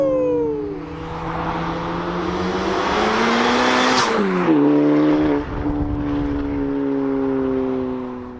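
A car fitted with an aftermarket exhaust passes along a street, its loud engine note rising as it approaches, peaking close by and then fading as it drives away, with no talk.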